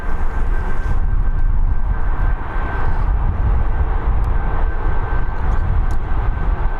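An Emirates aircraft at Birmingham airport produces a loud, continuous roar of jet engines, a broad rumbling wash that holds steady throughout.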